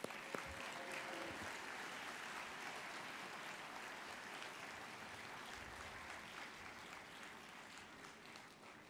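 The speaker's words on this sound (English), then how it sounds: "And let's give these graduates one last round of applause." A crowd applauds graduates at a 2021 commencement ceremony, a dense, sustained wash of clapping that holds steady for the whole stretch and fades slightly at the end, with no voices over it.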